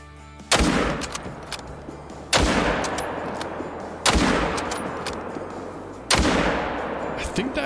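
Four loud rifle shots in the hunting video game Call of the Wild, fired at does about two seconds apart, each a sharp crack followed by a long rolling echo that fades before the next.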